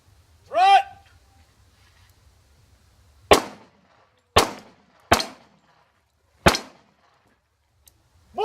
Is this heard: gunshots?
yes